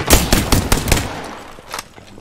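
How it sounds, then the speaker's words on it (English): Gunfire in the Apex Legends video game, a rapid burst of loud, close shots that tapers off, followed by a lone later shot. "There's a team shooting Prowlers, literally right in front of us."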